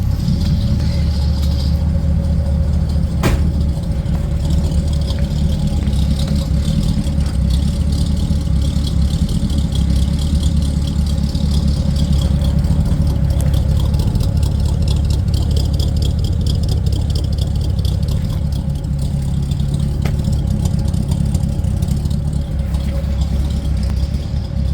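A car engine idles steadily after a DIY dual exhaust install, giving a loud, continuous low rumble with a faint rattle, unbroken and close for the whole stretch.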